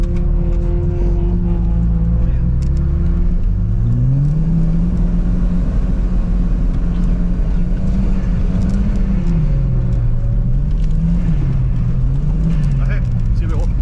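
A car engine revs hard during ice drifting on frozen Jämnesjön, a loud, close rumbling drone that rises and falls in pitch as the throttle swells and eases.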